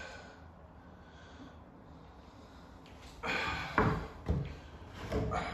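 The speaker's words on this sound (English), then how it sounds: "Open up my doors." Wardrobe doors being opened, a couple of close thuds and knocks after a quiet stretch, followed by a brief rustling shuffle.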